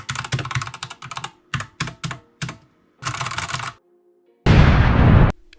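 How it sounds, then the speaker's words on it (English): Typing on a Redragon K552 mechanical keyboard with linear switches: bursts of rapid, close key clacks in short runs separated by pauses, ending with a louder sustained clatter. "the first reason I would go with a mechanical keyboard over a membrane keyboard is just the typing experience"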